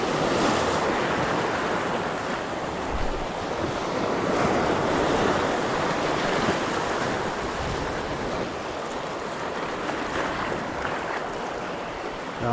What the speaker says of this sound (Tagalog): Ibang lakas ba naman ng alon?